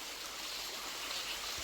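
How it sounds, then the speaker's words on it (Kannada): Water flows through a sand filter into a drip irrigation line, a steady faint hiss and rush with no talk. "ಈಗ ನೀರು ಲೈನಲ್ಲಿ ಹೋಗ್ತಾ ಉಂಟು"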